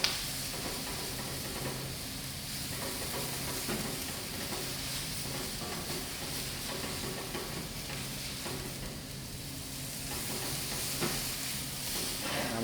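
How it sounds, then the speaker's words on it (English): Steady, low-level sizzling of onion frying lightly with curry powder in oil in a pan, a continuous crackle and hiss with faint stirring scrapes throughout and no talking. "we're very lightly frying the onion with the curry powder"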